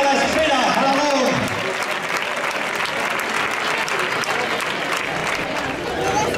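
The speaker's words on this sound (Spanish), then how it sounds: "¡fuerte el aplauso!" Steady applause from a crowd at a bullfight in the bullring at Alagón, Zaragoza, loud and continuous throughout, with an announcer's voice mixed in over the clapping.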